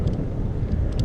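Wind buffeting a microphone while riding a bike, a dense low rumbling roar that fills the whole short moment, with no voices.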